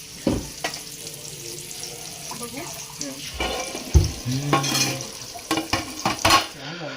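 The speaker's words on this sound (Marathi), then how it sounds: "तर इकडे जिताडा फ्राय पण बनतोय पुन्हा" Jitada fish pieces frying in a pan beside a simmering gravy for fish biryani, with soft sizzling, scraping stirs and brief clatters of utensils and water in a home kitchen.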